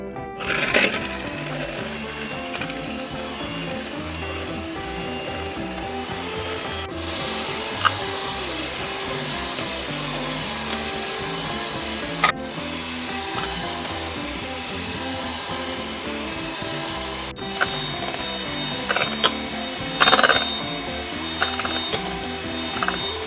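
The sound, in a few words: mixer beating eggs for spiku layer cake batter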